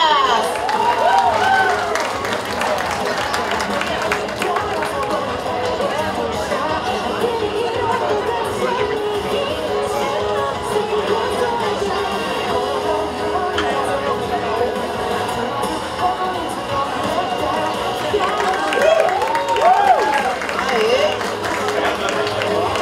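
Audience at a Sunday cosplay parade applauding and chattering loudly and steadily throughout, with crowd noise swelling briefly near the end.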